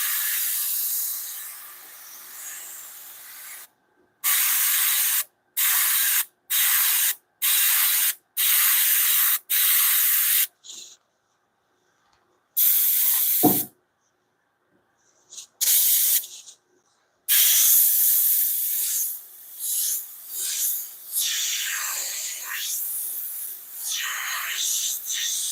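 Airbrush spraying black paint onto a shirt, a steady broadband hiss in repeated short bursts with abrupt stops, then longer continuous passes; close and loud, with no talking.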